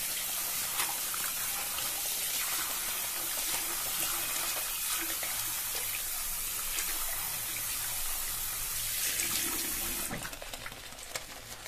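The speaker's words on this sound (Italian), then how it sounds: "Bagno la ciotola." Tap water runs steadily close by to wet a shaving bowl, a soft continuous rushing that shifts in tone as the flow splashes, then changes near the end.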